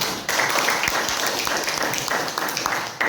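Classroom applause: a dense, continuous patter of many hands clapping together, fairly loud and steady for about three seconds.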